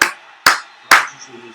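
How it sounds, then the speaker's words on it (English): Three sharp hand claps, close and loud, land in a slow, even rhythm, each dying away quickly before the next. "I'm clapping"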